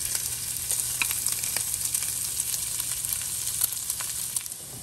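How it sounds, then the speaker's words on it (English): Red onions cooking down in rendered bacon fat for collard greens with ham hock, an even, constant sizzle with faint stirring ticks, close and moderate, without speech. "you're gonna add in your red onions and let them cook down"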